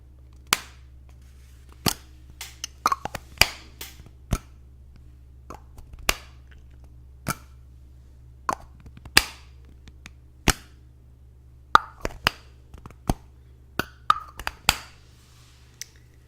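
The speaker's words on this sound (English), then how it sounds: "And putting a cap back on." Crisp plastic clicks snap out one after another at an uneven pace, some spaced apart, others in quick clusters, over a low steady hum, as a cap is put back on.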